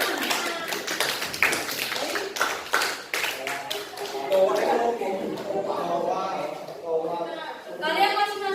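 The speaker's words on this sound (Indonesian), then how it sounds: "Tepuk tangan." Students in a classroom clap together in a burst of quick, uneven claps that thin out toward the end, mixed with voices chattering over and after the clapping.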